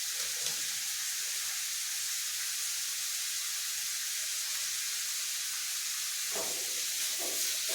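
Curry leaves sizzling in a pan with yam for Kerala-style chena mezhukkupuratti, giving a steady soft hiss throughout with a couple of brief louder stirring bursts near the end.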